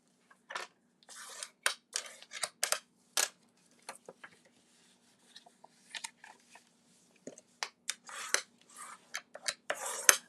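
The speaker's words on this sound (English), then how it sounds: "Now we're going to just burnish the fold marks." A burnishing tool is rubbed along fold marks on paper for a mini album, producing short dry scraping strokes in irregular bursts separated by silence, close and clear.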